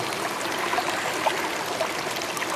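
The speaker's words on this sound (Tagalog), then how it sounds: "napakalakas ng lagaslas ng tubig sa banda dito" River water rushes steadily nearby, a constant bright splashing roar with small gurgles, and no voices.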